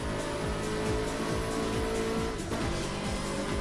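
Car racing at speed in the Burnout Paradise video game, a steady loud engine drone with repeated whooshing passes and tire noise throughout, no voices.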